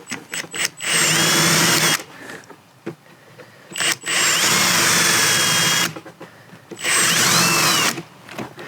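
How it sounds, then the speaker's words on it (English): A power drill with a 5/16 bit whirs loudly in three sustained bursts during a Mercedes-Benz C250 interior door handle repair, each a couple of seconds long, with brief pauses and clicks between them. "So I just switched down to 5/16 drill bit."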